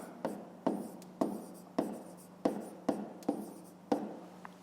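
Pen strokes on paper during a fifth-grade maths exercise, with about eight short, evenly spaced scratches in a steady rhythm, close and fairly quiet, and no talking.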